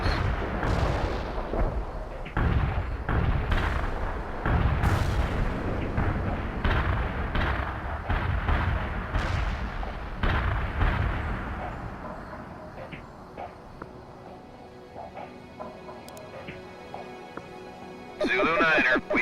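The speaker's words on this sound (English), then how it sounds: "Artillery barrage inbound." Heavy artillery barrage in the video game World in Conflict, with repeated deep booming explosions landing in quick succession for about twelve seconds, then fading to quieter rumbling and scattered distant impacts.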